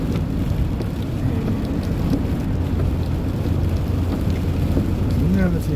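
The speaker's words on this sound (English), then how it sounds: "Just hearing the sound of the raindrops splashing on the car." Rain patters steadily on a car during a drive, a dense close hiss of drops splashing on the body with a low rumble underneath.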